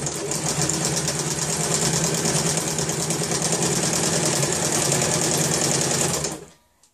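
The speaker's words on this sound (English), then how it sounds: "So I'm going to drive the machine now and I'm not going to be pushing the fabric" A sewing machine runs steadily as it stitches a straight line through fabric, making a loud, close, fast even whirr with no talk, then stops abruptly near the end.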